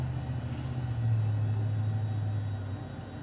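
Simulated Honda Jet engines descending in Microsoft Flight Simulator, a steady low droning hum with a faint high whine above it, continuous and moderately quiet with no talking.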